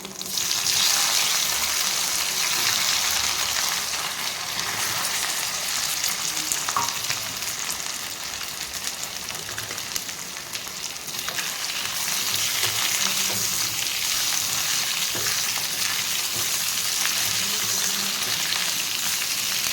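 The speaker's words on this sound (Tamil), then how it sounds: "இந்த உருளைக்கிழங்கை இந்த எண்ணெயில் சேர்த்துக்கிறேன்" Boiled, cut potato pieces frying in hot oil, a loud continuous sizzle and crackle with occasional stirring, close and unbroken, no voices.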